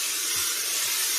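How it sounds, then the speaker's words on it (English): A steamer blows steam inside a Scott & Co beaver fur felt hat, giving a soft, steady, breathy hiss that continues unbroken for about a second with no voices. "Just going to put a bit of steam inside."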